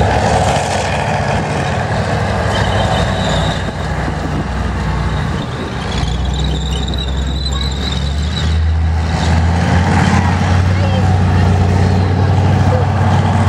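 A Sturmgeschütz turretless armoured vehicle drives past in a tank-museum battle demonstration, its heavy engine rumbling loudly and continuously with a deep drone that swells toward the end, mixed with crowd and commentary noise.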